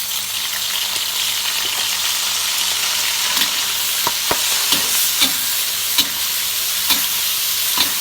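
Pork stir-frying in a pan with ground pepper and soybean paste, a steady loud sizzle with scattered scraping clicks of the spatula against the pan, no voices.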